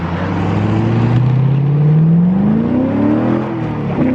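A Honda S2000 with a V8 engine swap, heard from the cabin while driving: a steady, smooth engine drone that rises slowly in pitch as it accelerates, with no talking.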